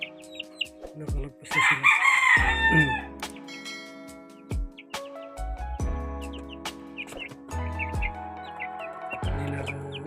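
Chickens and small chicks on a Filipino backyard farm, recovering from illness, chirp and cluck in repeated short calls with a crowing-like burst near the start, close by, while someone speaks briefly.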